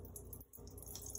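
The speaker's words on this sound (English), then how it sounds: "I'm going to add water" Water is added from a tap into a bowl for mixing Ultracal 30 gypsum cement, a faint, steady close-up splash and trickle with a brief dip midway.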